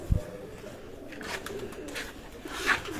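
A male breeder pigeon held in the hand gives soft, low coos, close and fairly quiet, after a brief thump at the start, with no talking.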